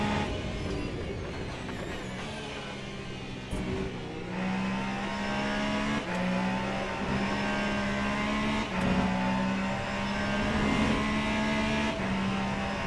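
Race car engine held at lower revs in the Le Mans Ultimate racing game, a steady droning tone with several brief shift dips and rises, continuous and close, with no talk.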